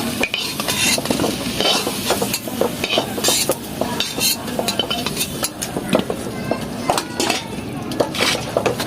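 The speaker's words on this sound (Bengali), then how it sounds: "ম্যারিনেট মাংসটার সাথে তো আমার আলুটা ভাজা হয়ে গেছে।" Potatoes frying in mustard oil alongside marinated mutton preparation, a loud close sizzle broken by frequent scraping and clinking of a spatula against the pan, busy and continuous throughout.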